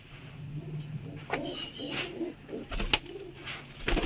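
Pigeons kept for sale coo in low, soft murmurs, several overlapping phrases rising and falling amid room noise, with one sharp click partway through and no speech.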